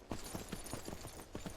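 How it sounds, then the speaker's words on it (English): Horse hooves clip-clop steadily in the Myth of Empires video game, a quick even rhythm of soft thuds from a ridden horse, fairly faint and close, with no talk over them. "Now I could actually have her mount the horse and she would follow me on horseback"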